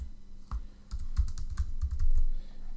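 A password is typed on a computer keyboard in a run of close, irregular key clicks with brief pauses between them, fairly quiet with no voices.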